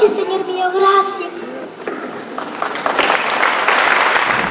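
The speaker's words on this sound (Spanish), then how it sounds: "Regáleme un caluroso aplauso para nuestra madrecita" Someone speaks, then a crowd breaks into sustained applause that swells and continues to the end.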